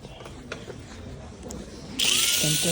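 Mini 4WD Bmax toy car motor running on a test track: muffled background noise at first, then a sudden loud, high, steady whine starts near the end and continues.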